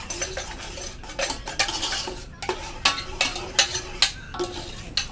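A metal spoon stirs tomato gravy for pav bhaji in a pan, scraping and clinking against the metal in quick irregular strokes over a soft sizzle, close and fairly loud.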